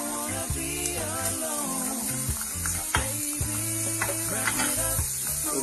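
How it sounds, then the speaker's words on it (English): Onion and bacon frying together in a pan: a constant close hiss and crackle of sizzling, with clinking and scraping from stirring and a steady tonal hum underneath, no voices. "We'll get the bacon in on one side at the same time."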